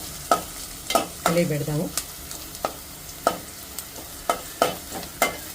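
Finely sliced onions sauté in a pan as a spatula stirs them with roughly ten crisp, regular taps over a low sizzle; a voice speaks briefly in the middle.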